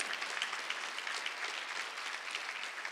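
A congregation at a Sunday church service claps along, producing a faint, even, continuous patter of many hands with no talking over it.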